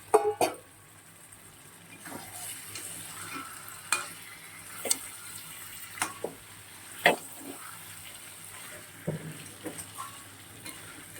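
Potatoes frying in a pan while chicken korma is cooked, with steady low sizzling and repeated sharp stirring scrapes and knocks spaced through the clip, close by with no talking.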